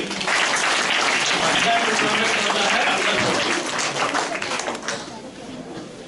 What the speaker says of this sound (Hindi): एक बार जोरदार ताली सबको ही चाहिए।